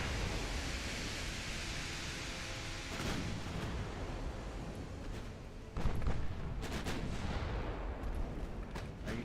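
Naval guns in the Ultimate Admiral Dreadnoughts video game fire at battleships, a continuous roaring rumble of battle punctuated by several heavy booming shots, one standing out sharply louder partway through.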